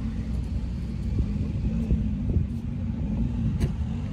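A huge American Lincoln Continental rumbles with a deep, steady low engine drone throughout, close by and constant with no clear revving.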